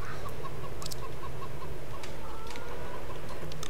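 Hens in a Farming Simulator 2015 hen house, video game, cluck in short repeated bursts against a steady background hiss and ambient game noise, fairly faint and continuous.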